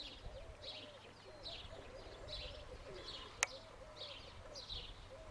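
Soft repeated cooing of pigeons in a steady rhythm, with faint chirps overhead and one sharp click partway through.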